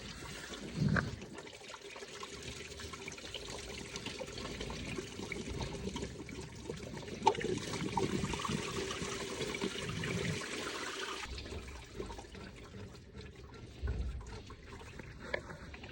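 Coolant water draining from the engine of a 2017 VW Transporter 2.0 diesel during a timing belt and water pump job, a steady pouring trickle that runs for about eleven seconds, then tapers to faint dribbling.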